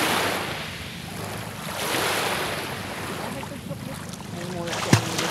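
Ocean waves wash ashore on the coast at Oas, Albay in Bicol, a constant rushing surf mixed with wind buffeting the microphone, swelling and ebbing close by.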